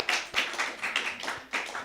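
Small audience giving a brief round of applause for a new poet laureate at a poetry reading, a few uneven bursts of clapping, close and short.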